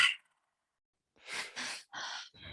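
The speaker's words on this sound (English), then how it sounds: "There's a breath called the Triactive Breath." Four forceful breaths of the Triactive breathing technique, each drawn into the belly and chest and pushed out through the mouth, come close and loud after a short sigh-like exhale and a pause.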